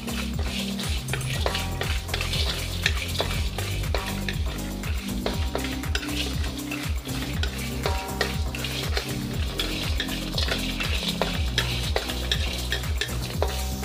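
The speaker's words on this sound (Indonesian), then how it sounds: "Kita goreng tanpa minyak sampai naik bau." Fennel seeds, cumin and other whole spices dry-fried in a pan without oil, giving steady stirring scrapes and light crackling throughout, close and continuous with no talking.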